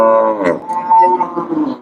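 Cattle at a Tamil livestock market low in a long, harmonic moo that wavers and dips midway, loud and close, with faint crowd noise beneath.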